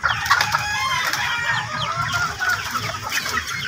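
A small flock of backyard pet chickens clucking steadily and close, with overlapping calls and a rooster-like crow running through, under a constant outdoor hiss and no talk.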